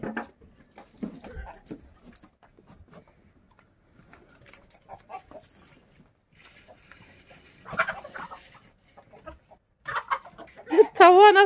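Chickens cluck in soft scattered bursts around a yard, growing louder near the end with a sharper, wavering call, while people talk faintly nearby.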